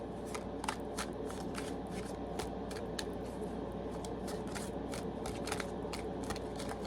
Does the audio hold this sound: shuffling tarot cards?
yes